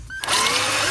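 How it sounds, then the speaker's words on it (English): A metal drill bit grinds into the metal floor of a bus at close range, starting abruptly after a brief pause and holding a steady, loud whine without any talk. "So the bit itself, the metal drill bit, is into the metal floor now."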